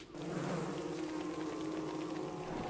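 Bees in the video game Don't Starve Together give off a continuous, droning buzz, steady and close throughout, with no voices over it.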